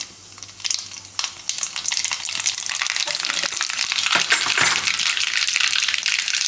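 Mustard seeds and cumin hit hot oil while making Gujarati mamra bateta, a loud, dense sizzle that swells and crackles steadily after a brief quieter start.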